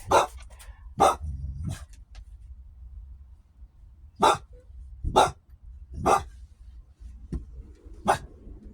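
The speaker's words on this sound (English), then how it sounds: "Oh, doggies. Oh, cool. Corgis. Long-haired corgis." Long-haired corgis bark in short, sharp, separate bursts, about seven barks spread irregularly with quiet gaps between, loud and close.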